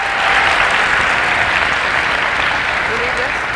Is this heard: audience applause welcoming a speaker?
yes